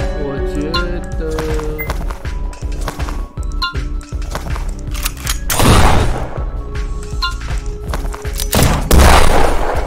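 Explosions in the game Wanna Survive, two big booming bursts and scattered thumps over a busy game soundtrack, with a voice talking over them.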